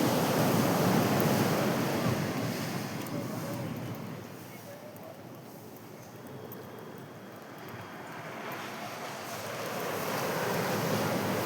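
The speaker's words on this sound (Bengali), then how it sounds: "জলের ঢেউটা দেখো তোমরা।" Waves washing ashore at a crowded beach, a continuous close surf roar mixed with gusty wind buffeting the microphone, swelling and easing in intensity.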